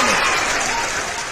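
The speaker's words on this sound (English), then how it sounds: "Give yourself a round of applause." An audience bursts into loud, dense applause, a steady wash of many hands clapping at once for just over a second.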